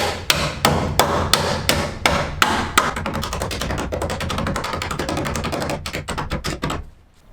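Heavy hammer blows ring out against rusted metal on a Nissan 240SX (S13), slow and spaced at first, then a fast, steady run of sharp metallic strikes before stopping.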